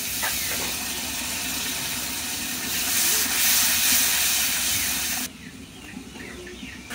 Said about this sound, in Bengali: মশলাটা কষানোর জন্য পানি দিয়ে দিব।